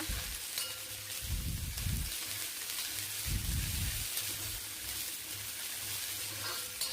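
Sliced okra sautés in oil in a pan for an okra and potato fry, a quiet, continuous sizzle broken by a few soft bursts of stirring and scraping, with no talking.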